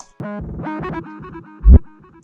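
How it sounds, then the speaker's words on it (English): A deep, distorted 808 bass made in FL Studio for a beat plays a stuttering roll of repeated hits, each trailing into echoing delay and reverb, ending with a heavy boom. "It's basically an 808 delayed and reverb, but it's like a roll."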